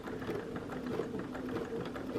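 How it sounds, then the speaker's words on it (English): A sewing machine doing free-motion ruler quilting with a triple stitch: a steady, quiet mechanical whirring and rapid needle ticking that runs continuously without pause. "So I'm just going to sew until the shape and then treble stitch"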